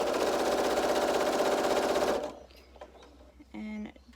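Sewing machine stitching a quarter-inch seam in homespun quilt fabric, a steady, fast mechanical chatter for about two seconds that stops abruptly, followed by a short voice.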